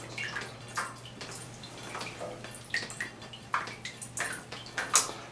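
Water splashing from an artificial rain setup rigged for a photo shoot: irregular light splashes and drips close by, with brief brighter spatters over a low steady hum and no talking.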